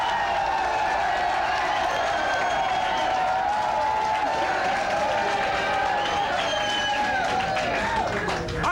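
A studio audience at a talk show applauds continuously, a dense wash of clapping and crowd noise with some cheering, under a talking voice.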